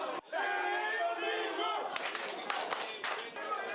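A restaurant crowd watching a World Cup football match on a big screen cheers, claps and shouts together, a dense burst of applause and voices following a sustained loud roar.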